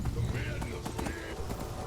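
Hooves of a horse in the Skyrim video game clip-clop steadily at close range, with a continuous layer of game background sound and talk running over the steps.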